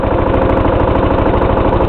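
A Briggs & Stratton 16 HP OHV I/C Intek engine idles steadily just after a cold start, with a loud, close, rapid low-pitched chugging pulse and no voices.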